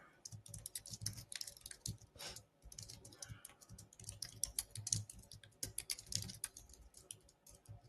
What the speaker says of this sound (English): Can y'all hear me typing?